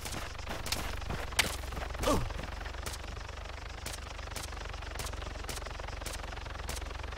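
Gunfire in Arma 3 strikes the player's character on the AltisTürk server: a string of sharp, fairly faint cracks spaced through the clip, with a louder burst near the start, over a steady low rumble.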